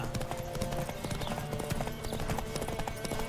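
Rapid hoofbeats of a galloping horse in The Witcher 3: Wild Hunt, a dense continuous drumming over game music and wind, with no clear talk.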